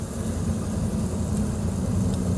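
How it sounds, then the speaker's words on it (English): A 2022 Honda Africa Twin motorcycle engine running steadily at low revs, a continuous deep throbbing hum with constant loudness and no talk over it. "boy, do I love this engine. It really pulls solidly from about 1800 revs."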